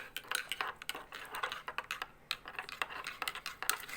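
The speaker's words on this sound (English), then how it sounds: "Wash it couple of times and then chop it finely." Knife chopping beetroot leaves finely on a board, a rapid run of sharp, close clicks and taps with uneven rhythm, clear and alone with no talk.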